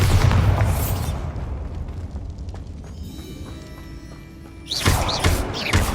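A Confringo blasting spell going off in Hogwarts Legacy: a loud booming burst at the start that fades into a rumbling tail, with a second blast erupting near the end; no talking.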